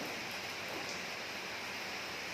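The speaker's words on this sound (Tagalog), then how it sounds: "Malakas na naman ang ulan dito." Dense, steady hiss of heavy rain pouring down, a uniform wash of sound with no voices, constant throughout.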